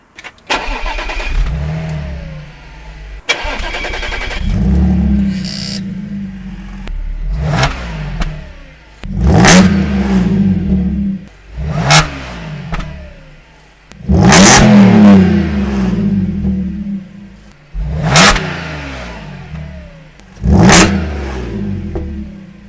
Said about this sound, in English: I'm going to do now a cold start for you guys after I've had my rear silencer delete